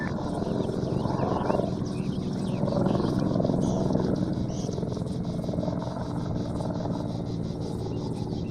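An attack helicopter gunship from the ArmA 3 video game drones steadily with a dense rotor and turbine roar. The sound is continuous and moderately loud across the whole stretch, with no voices over it.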